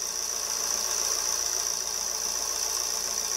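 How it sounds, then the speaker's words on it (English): A 2010 Vauxhall Insignia engine idles steadily with an EGR excessive-flow fault, its hum and tone shifting slightly as the EGR valve is opened, heard alone at moderate level. "You can hear the note of the engine change"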